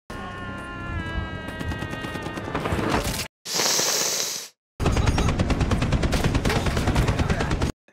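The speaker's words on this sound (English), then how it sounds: "He's shooting anybody." Rapid gunfire from a scene in The Boys season 3 episode "Barbary Coast", dense automatic bursts with a brief whooshing gap and a short silence, loud and sustained, with faint voices mixed in.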